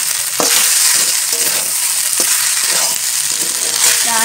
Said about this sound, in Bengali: আলু দেওয়া হলো, আলু আগে থেকে ভেজে রাখা ছিল।